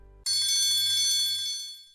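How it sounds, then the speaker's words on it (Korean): A telephone rings suddenly, with a bright metallic bell trill that starts abruptly after a moment of near silence and sustains loudly before slowly fading. "며칠 뒤 전파사에서 전화가 걸려왔다."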